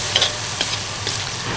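Fermented black beans, ginger and garlic stir-fry in a hot wok with a loud, constant sizzle, broken by a few quick scraping stirs of the spatula close by.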